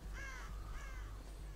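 Crow cawing in the survival horror game Dead by Daylight, two rasping caws in quick succession, moderately loud against a low, steady background drone.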